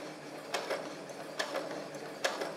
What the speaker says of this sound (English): I had to lift the foot of the sewing machine up to get past the zipper a little bit